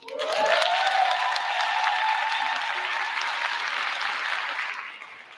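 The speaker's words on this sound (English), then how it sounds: "you all were cheering before I even had the stage" An audience at a Teacher of the Year ceremony cheers and applauds the two statewide-winning honorees as they stand, with dense, loud clapping and cheers that hold steady for about five seconds and then taper off.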